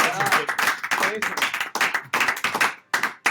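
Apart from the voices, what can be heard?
audience clapping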